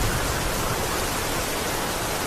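Steady rain falls on forest leaves, a dense even hiss of countless drops that fills the whole stretch at constant loudness, close and enveloping, with no voices or other sounds.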